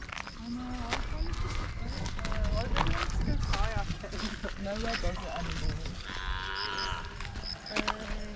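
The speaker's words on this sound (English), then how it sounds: "There's some cows roaming around" Cows roaming rural fields near Pai, Thailand, moo repeatedly at moderate distance among other outdoor sounds, with people talking over them throughout.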